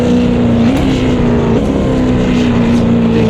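A Super V8 race car engine in a racing video game roars loud and steady, its exhaust droning at high revs with small shifts in pitch.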